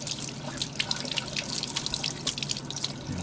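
Cold tap water runs and splashes steadily over boiled eggs in a kitchen sink, with a continuous close spatter and small drips and no voices.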